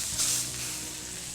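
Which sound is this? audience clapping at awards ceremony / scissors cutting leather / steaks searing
steaks searing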